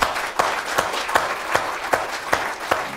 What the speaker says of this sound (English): but first an applause for Wendy Julien.